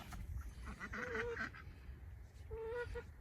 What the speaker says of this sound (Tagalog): Napakaingay lang na ano, na duck.